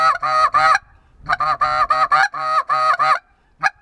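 Loud, close goose calls honk in quick clustered bursts, a few notes at a time with short gaps, sounding like a handheld call being blown.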